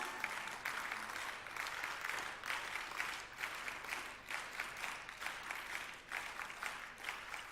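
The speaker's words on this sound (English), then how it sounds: "Give them a big round of applause." Audience at a school investiture ceremony applauding steadily, a dense, even wash of many hands clapping that continues without pause, fairly distant and moderately quiet.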